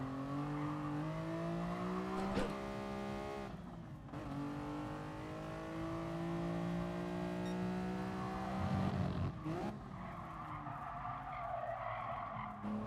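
Tires squeal long and steady under late braking in the Gran Turismo Sport racing game, over a droning car engine whose pitch slides. There is a brief dip around the middle and a rougher burst near the end.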